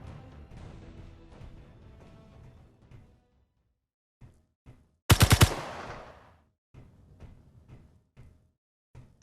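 A burst of rapid gunfire in the video game Space Engineers, a tight cluster of loud close shots with a ringing tail, set between quieter stretches of game ambience.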